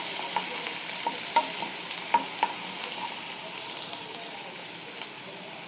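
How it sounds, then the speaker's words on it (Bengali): Chopped onions frying in oil in a frying pan, a steady bright sizzle with scattered spatula taps and stirring clicks, easing slightly near the end. "ফ্রাই প্যানে কিছুটা তেল দিয়েছি, তাতে আমি এক এক করে পেঁয়াজ কুচি"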